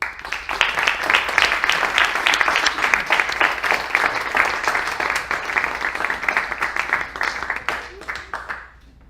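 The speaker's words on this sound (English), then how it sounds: "Another round of applause for Robert Waldner." A crowd applauds steadily for several seconds, dense clapping at an even loudness before it thins out and fades at the end.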